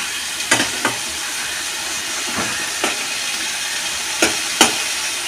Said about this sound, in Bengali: মাছটা আমার ভাজা হয়ে গেছে